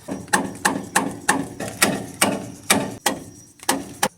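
Repeated hammer taps drive brand-new bushings into a rusty rear control arm from a Nissan Armada: about a dozen sharp metallic knocks, close and evenly spaced, with no talking.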